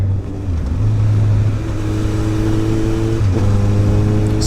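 A Suzuki Bandit 1250 motorcycle revving loudly while being ridden, its exhaust giving a deep, steady drone that rises and falls in pitch across the gear changes, with no talk.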